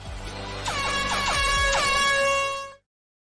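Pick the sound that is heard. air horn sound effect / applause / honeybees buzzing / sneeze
air horn sound effect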